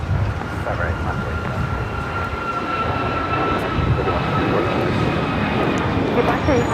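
An American Airlines Boeing 737 MAX 8 takes off at an airport, a loud continuous engine roar with a faint whine, steady and broad throughout.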